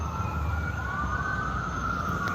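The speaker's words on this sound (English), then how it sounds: "a little ambulance action." An ambulance siren in a battle royale video game wails steadily under low background rumble and engine noise, holding a continuous tone at moderate volume.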